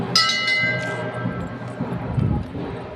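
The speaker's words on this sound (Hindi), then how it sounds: "घंटी" A bright metallic bell strikes once and rings on with a long fading tone, over a faint murmuring background.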